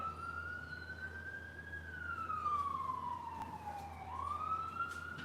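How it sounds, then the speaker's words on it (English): A siren wails in long, slow rising and falling sweeps, steady and moderately distant over a low traffic hum. "So you're going to hear ambulances, you're going to hear sirens"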